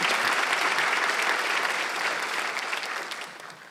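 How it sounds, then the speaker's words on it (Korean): A church congregation at a Korean Sunday worship service claps loudly and steadily in a sustained burst of applause that tapers off slightly toward the end. "박수 한번 세게 쳐봐요."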